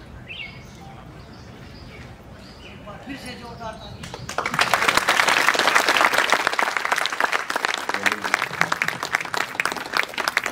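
Audience applause at a large festival gathering, quiet murmur and faint birdsong at first, then dense clapping bursting in and holding steady and loud to the end.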